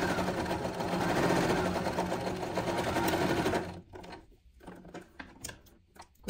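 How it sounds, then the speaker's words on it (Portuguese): A domestic sewing machine stitching fabric for a bookmark with a pocket runs in a loud steady whirring clatter for several seconds, then stops, leaving soft handling noises and brief bursts of the motor near the end. "Nesses cantinhos, sempre pare com a agulha abaixada,"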